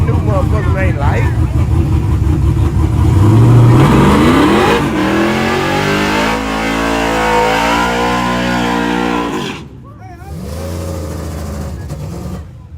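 A heavy small-tire drag racing truck at Yello Belly Drag Strip revs loudly and continuously, the engine note sweeping up and down and cutting off near the end, with people talking over the roar.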